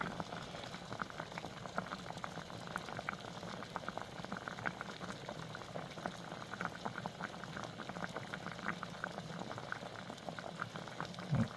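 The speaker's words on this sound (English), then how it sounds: "Don't mind the stove, I just was cooking eggs a little bit ago." Eggs boiling on a stove, a steady close bubbling and faint sizzle that runs unbroken throughout with no other sounds over it.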